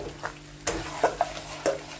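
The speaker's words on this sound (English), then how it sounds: "I'll cook it for about 2 minutes until the butter melts nicely" Butter melts in a mutton karahi with a low background sizzle, broken by a few distinct clinks and scrapes of a utensil against the pan.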